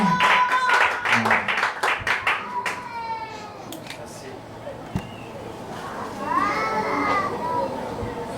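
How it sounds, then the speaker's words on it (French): Church audience at an evening spiritual gathering applauding and cheering to welcome a guest speaker, a short burst of clapping with voices, fading under a noisy room as children and people talk. "en train de recevoir le docteur John Nzuzi sous vos acclamations."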